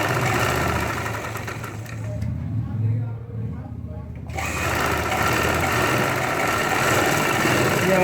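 An electric sewing machine stitches a strip onto a ladies' pant with a side zip, its fast, close, steady whir pausing briefly midway and then starting again, with a voice speaking over it.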